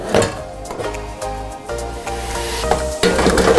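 Bacon-wrapped naem, a Thai fermented pork sausage, is loaded into an air fryer with clattering pot and utensil sounds and a steady sizzle-like rush. The noise comes loud and close in uneven bursts.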